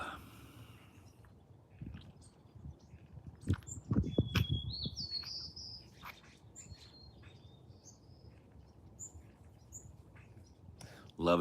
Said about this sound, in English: Loving these birds.